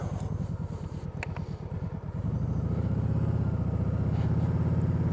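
A vehicle revving hard under heavy throttle before a panic stop, a low pulsing engine drone that deepens and steadies into a loud, sustained rumble, close by.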